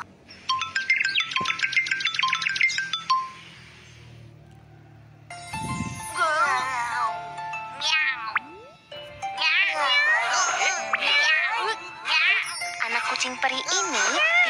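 Cats and kittens meow in several short, high, wavering calls in the second half, preceded by bright chiming jingles and a soft thump, with a busy mix of cute sounds around them.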